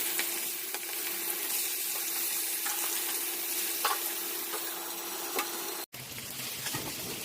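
Boal fish coated with salt, turmeric, mustard oil and lemon juice frying in hot mustard oil, a steady close crackling sizzle that runs without a break and ends in a short pause and a bit of stirring.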